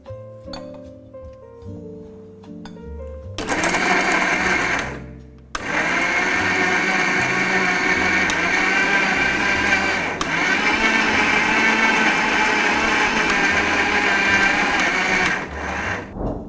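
A loud mixer grinder grinds boiled chicken in long bursts, stopping briefly and starting again, its high motor whine constant while running; quieter clattering comes before it starts.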